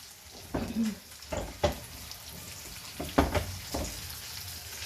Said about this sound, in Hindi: अब इसके ऊपर मैंने एक तड़का बनाया है तो वो डालने लगी हूँ।